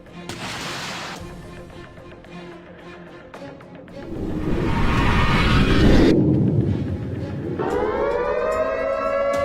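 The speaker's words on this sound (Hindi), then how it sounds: "ये सायरन बज रही है।" A loud air raid siren wails and swells, rising and falling in pitch, with rumbling noise underneath and a steady tone toward the end.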